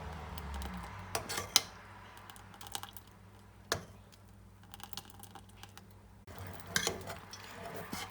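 A spoon keeps stirring thickening milk in a pot for shahi tukray, giving quiet, scattered scrapes and small metallic clinks against the pot, soft and close with gaps between strokes.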